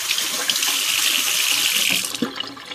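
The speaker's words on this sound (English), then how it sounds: "Okay, this is the rinsing process." Aluminum beverage cans are rinsed under a running tap, a steady close hiss of flowing water with splashing as the cans are turned in the stream, no voices.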